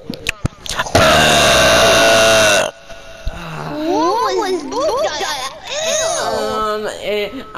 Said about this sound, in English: What was that burp?